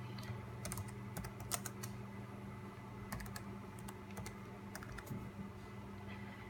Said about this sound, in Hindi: कमांड टाइप करूँगा मैं।